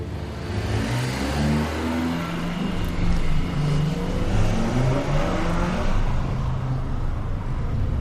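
Honda Civic Type R engine pulling hard on the Nürburgring Nordschleife, revs climbing through several gear changes with brief dips between, loud and close from inside the car, no talk over it.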